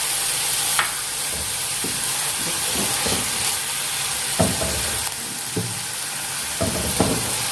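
Chili sauce and soy sauce sizzle steadily in a hot frying pan for a Chinese chicken and vegetable roll filling, with a constant hiss broken by a few sharp spatula clinks and stirring knocks.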